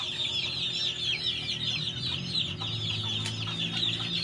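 Dense, continuous clucking and chatter from a flock of tornado hatch gamefowl chickens, many birds calling at once close by, with no talk over it.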